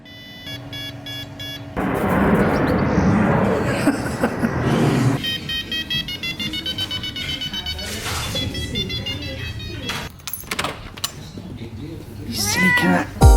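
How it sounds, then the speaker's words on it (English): A pet cat meows several times in bursts amid rustling and mechanical noises, with a tonal beeping or music-like sound in parts and a loud drawn-out cry near the end. "Silly cat hasn't learnt her lesson"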